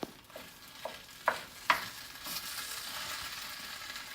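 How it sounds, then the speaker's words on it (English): Ground turkey being smashed and stirred in a pan for curry, with a few sharp scraping knocks over a soft steady sizzle, close by, with no talking. "you're just gonna smash the turkey just like that"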